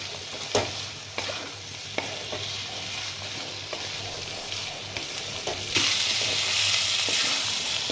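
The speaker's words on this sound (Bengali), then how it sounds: "আমার মশলা ভাজাটা হয়ে গেছে পটলের সঙ্গে" Spices frying with pointed gourd in a pan: an even close sizzle runs throughout, punctuated by a few sharp scrapes of stirring, and it swells louder near the end.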